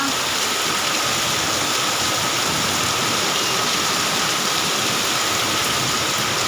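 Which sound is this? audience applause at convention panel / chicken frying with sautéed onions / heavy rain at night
heavy rain at night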